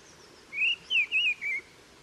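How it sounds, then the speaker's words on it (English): A mistle thrush sings four short, clear whistled phrases in quick succession, fairly near, over a quiet outdoor background. "this is the day that you should listen out for the song of the missel thrush."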